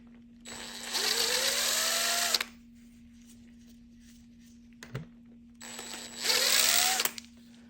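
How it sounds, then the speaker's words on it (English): A tool spins a nut off a stud during teardown of a 1980s Oldsmobile 403 V8 engine. There are two separate whirring bursts with a pause between them and a faint click in the gap. "Get that second nut out of there."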